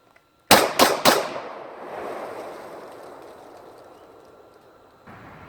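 A Glock G40 10mm handgun is fired outdoors in the woods, three sharp, loud shots in quick succession, each followed by a long echoing reverberation that slowly fades.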